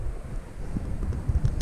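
Wind blows across a fishing boat at sea off Handeuleum Island in Ujung Kulon, buffeting the microphone with a low, gusty rumble in short uneven bursts and no talking.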